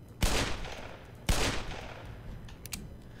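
Two loud, sharp gunshots from a weapon in the video game Black Mesa, about a second apart, each trailing off into a ringing decay, with faint clinks near the end.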